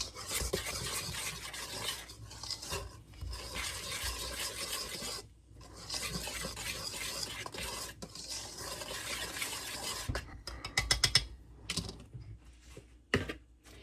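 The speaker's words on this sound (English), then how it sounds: "I just take a whisk and mix it again" A whisk stirring flour, baking powder and salt in a bowl, a steady dry scratching and rasping that pauses briefly a few times and ends in quicker, choppier strokes, close and quiet with no voices.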